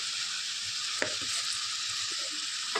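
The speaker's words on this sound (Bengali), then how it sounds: "ভালো করে এবার নাড়াচাড়া করে নেব" Bottle gourd with salt, turmeric and cumin powder stirred in a hot pan, a soft continuous sizzle with a few clinking scrapes of the spatula, close and fairly quiet.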